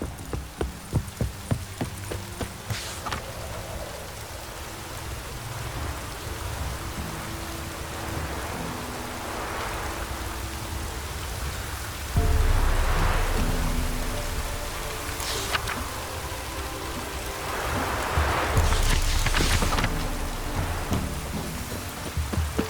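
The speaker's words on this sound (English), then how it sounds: "Oh, it's drizzly." Steady drizzling rain in the fantasy video game The Witcher 3: Wild Hunt patters evenly throughout, with rhythmic horse hoof clip-clops near the start and a few louder rustling swells.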